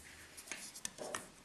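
A pen or marker draws a short marking line on fabric for a sewing project, a faint, quick scratch of a few strokes heard up close in a quiet room.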